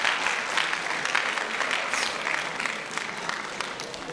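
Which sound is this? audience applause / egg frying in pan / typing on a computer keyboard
audience applause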